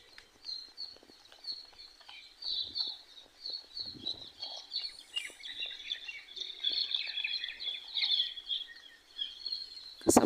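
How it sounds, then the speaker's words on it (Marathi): Birds chirp and tweet steadily near a village by a railway line, a dense, bright chorus of calls carrying on throughout, with a few faint low thumps beneath and no talking. "कसा पक्ष्यांचा आवाज येतोय"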